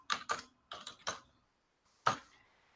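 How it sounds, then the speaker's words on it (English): Keys tapped on a computer keyboard in three short bursts of quick clicks, then a pause and one final sharper keystroke, close and clear with no talking. "let me type it in"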